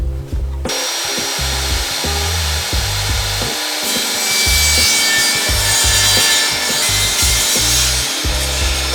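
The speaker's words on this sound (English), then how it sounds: "I'm just gonna rip this with my table saw twice" Table saw ripping a thin strip from a piece of ash wood, a loud continuous whining cut with a rough, grinding texture and pulsing low rumble throughout.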